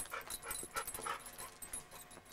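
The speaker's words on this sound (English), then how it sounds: "This dog will run through fire to chase the darn stick." A dog whimpers and yips softly while playing with a stick during a veterinary orthopedic check, faint repeated whines and short breathy bursts at moderate distance.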